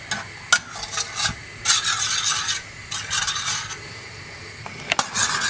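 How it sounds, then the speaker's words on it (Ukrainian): A spoon scrapes and stirs a chocolate mixture in a pot on the stove, a series of close, irregular rubbing strokes with occasional light clinks, with no speech. "Ось так ставлю на вогонь і постійно помішую."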